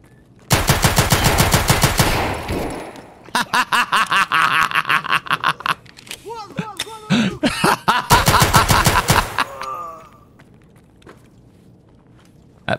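Hip-fired gun in the shooter game Escape from Tarkov, loosing several loud, close bursts of rapid shots separated by short pauses, with a few scattered single shots and quieter thuds between the volleys.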